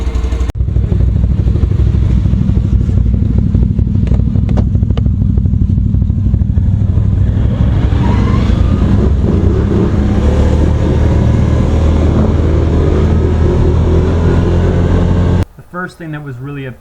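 2020 Can-Am Outlander 650 XT ATV engine running loud and steady close by with a deep rumbling drone and clatter, a voice talking over it, then cutting off abruptly near the end.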